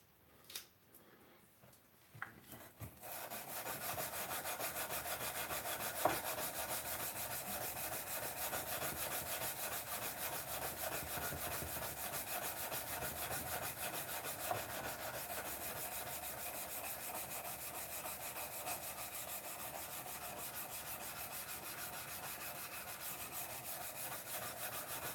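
Hand sanding with silicon carbide sandpaper gives a steady, close, continuous rasping scrub that runs for a long stretch after a few brief knocks at the start.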